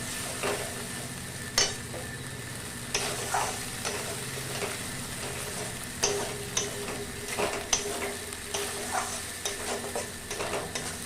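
Spice paste for a milk cauliflower curry frying in a pan while being stirred, a steady sizzle broken by irregular scraping and tapping strokes of the spoon, close and moderately loud, with no talking.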